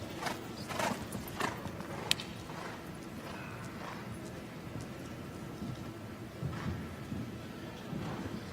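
Horse hoofbeats at an international show jumping competition, a run of clip-clop strikes with some softer thuds over a rumbling outdoor background, moderately distant.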